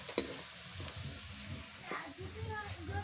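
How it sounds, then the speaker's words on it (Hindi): Chicken frying in a pan with masala and onion, in a village kitchen: a steady sizzle with scraping stir strokes runs throughout, while voices and children's chatter carry on in the background. "चिकन को पूरा तल लिए ना, अब मसाला को डालिएगा।"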